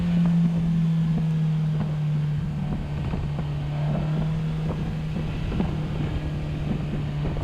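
A 2022 Polaris Slingshot engine drones at high RPM during a second-gear pull on a mountain drive, giving a steady, loud tone with wind rush around it and no talk.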